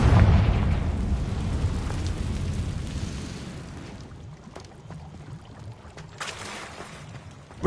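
Confringo blasting spell in the Hogwarts Legacy game erupts in a loud, deep explosive boom that rumbles and slowly decays over several seconds, followed by a quieter hiss and a faint later burst, with no voices.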